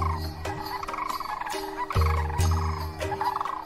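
Agitated birds call and shriek at each other in a restless flock in wild Spain, loud harsh cries in repeated bursts with some gobbling tones, close by and with no talk.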